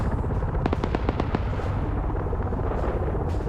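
Rapid gunfire in a video game battle, a quick burst of sharp cracks in a fast rhythm, then scattered shots and rumble fading into the background.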